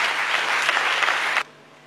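Audience applause at a debate contest final in Kinshasa, a brief burst of dense clapping that stops abruptly.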